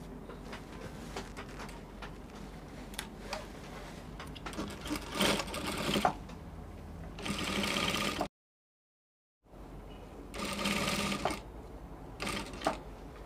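A sewing machine top-stitches a dress in close, repeated runs of whirring stitches with brief pauses and handling clicks between bursts, including one fully silent gap, and no speech.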